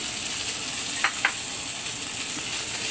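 Tofu frying in a pan with fish gives a loud, steady sizzle, broken by a couple of short sharp crackles near the middle.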